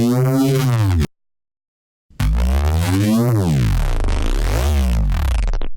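A granular synth engine with randomized grain position, used for neuro bass sound design, producing a loud, dense, buzzing tone with sweeping pitch rises and falls, cut by about a second of silence before the warbling resumes.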